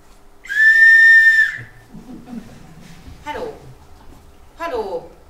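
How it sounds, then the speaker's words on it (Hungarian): A steady high whistle tone plays on a phone call for about a second, loud and clear, followed by quieter breathing and brief chuckling sounds. "Ezt követően egy síp hangot fog hallani, amikor is bankjához átkapcsolom"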